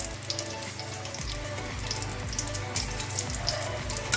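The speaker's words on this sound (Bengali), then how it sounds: "আমি এটাকে কম আঁচেই ভাজবো, তাহলে আস্তে আস্তে জিনিসটা ভালো হবে" Deviled eggs fry gently in a pan over low heat, giving a close, even sizzle with light crackles and no voices.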